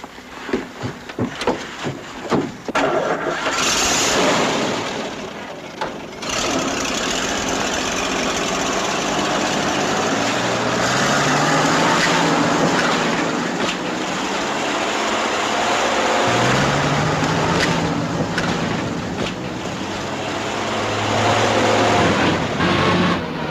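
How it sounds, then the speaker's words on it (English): An all-wheel drive vehicle stuck in mud has its engine revved hard and held high, a loud continuous roar that swells and falls over about twenty seconds, with no talking. "Keep racing that engine and get us in so deep we'll never get out."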